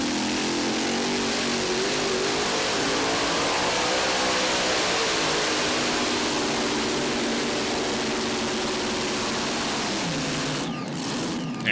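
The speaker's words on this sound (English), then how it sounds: "Strong competitor here, one of 2 tractors for the Criswell Benedict team" A powerful modified pulling tractor engine roars continuously at high volume at a tractor pull, a dense mechanical drone with slight pitch shifts, ending in a brief rattle.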